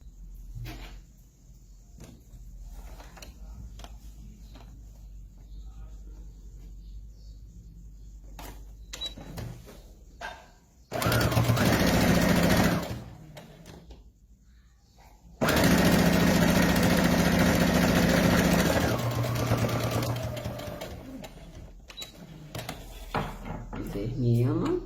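A sewing machine stitches a fabric side seam in two loud sustained runs, a short one then a longer steady whir, with quieter handling clicks and rustles before and between.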